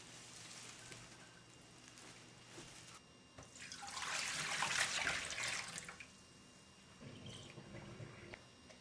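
Tap water runs into a rose vase being cleaned, a soft hiss that swells into a brief stronger splash in the middle and then eases back to a quieter trickle, all faint and distant.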